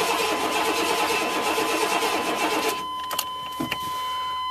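An engine is cranked by its starter, giving a steady whirring drone for nearly three seconds before it cuts off, followed by a couple of clicks and a quiet background hum.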